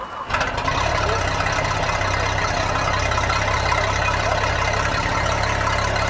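A propeller engine, fixed after a shorted alternator blew a fuse and stopped it turning over, catches with a brief start-up burst and then settles into a loud, steady, rumbling idle close by.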